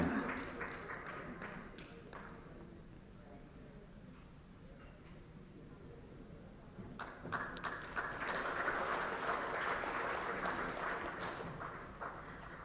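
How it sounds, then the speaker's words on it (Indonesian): Audience applause at a women's party wing gathering after a Nilanjar dance performance, a broad wash of clapping that swells louder midway and holds steady in a large hall. "Berikan aplaus untuk tari Nilanjar."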